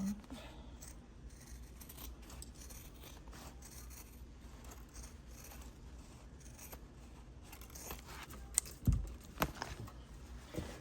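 Scissors snip through a paper banner, cutting away its top in a run of faint, close clicks and crunches over a low background hum, with a couple of sharper snaps near the end.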